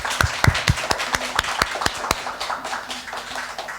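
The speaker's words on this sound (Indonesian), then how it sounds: "Tepuk tangan dong buat Afifah." A small audience at a live music session claps, with a handful of sharp, scattered claps close by that thin out into lighter, uneven patter.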